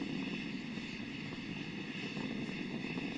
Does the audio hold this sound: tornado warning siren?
no